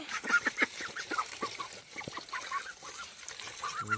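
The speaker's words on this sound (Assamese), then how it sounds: "ভাবিলোঁ হাঁহকেইটা আছে নাই, অলপ চাউল দি থৈ আহোঁ" A small group of ducks quack and honk excitedly while being fed rice, with close, irregular bursts of calls overlapping one another.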